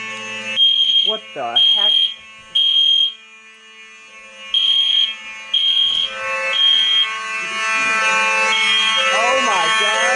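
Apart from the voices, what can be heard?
Simplex 2903 fire alarm system sounding during test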